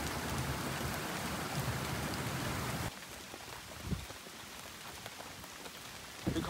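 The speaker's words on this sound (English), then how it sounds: "Because of the typhoon, it's rainy, so I'm wet." Steady rain falling during a typhoon in a rural village area, a dense continuous patter that drops to a lighter, sparser drizzle partway through, with scattered droplet hits close by.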